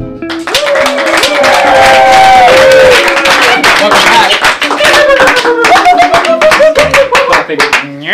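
Studio audience on a late-night talk show clapping steadily, a dense close wash of applause with a voice speaking loudly over it throughout.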